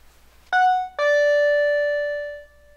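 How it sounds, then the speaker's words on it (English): A TX/RX2000A wireless driveway alert chime sounds a clear two-tone ding-dong, the second tone ringing out and fading over about a second and a half, loud and alone. "Here is an example of using the 12-volt output along with the chime at the same time."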